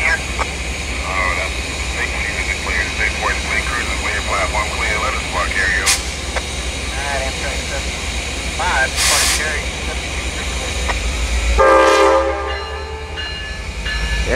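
An Amtrak passenger train pulls out of a station with a steady rumble of rolling cars and short horn blasts, while a voice talks over it nearby.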